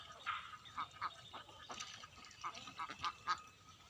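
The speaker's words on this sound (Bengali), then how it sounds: "যে হাঁস পানিতে" A duck quacks in water, giving about a dozen short, nasal calls in uneven bursts, some paired and others spaced apart. The calls are moderately close over a soft outdoor background, with no talking.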